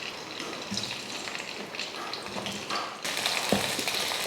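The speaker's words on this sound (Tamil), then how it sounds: "எண்ணெய் காஞ்சதுமே வெண்டைக்காயை போட்டு வதக்கிக்கலாம்." Okra sautéing in hot sesame oil in a kadai gives a steady, dense sizzle and hiss with a few soft stirring bumps. It turns louder and brighter partway through, as if fresh pieces hit the oil.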